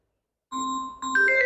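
A Samsung smartphone plays a brief electronic tone of a few clean, rising notes that starts suddenly out of silence, with no talking.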